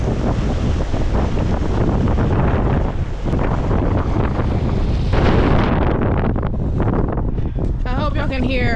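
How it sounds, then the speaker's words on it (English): Strong, freezing wind buffets an outdoor microphone during an ultramarathon training run, a loud continuous roar with gusty surges throughout. "I hope y'all can hear how crazy the wind is right now"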